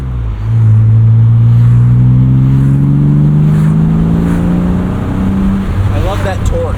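A 1999 BMW Z3 M Roadster engine pulls hard under acceleration, its loud, steady drone climbing in pitch through the revs, then easing back near the end, with faint road and wind noise around it.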